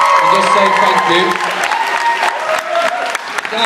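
Prom-night audience applauding at a high school prom, a brief, loud burst of clapping mixed with cheers and chatter.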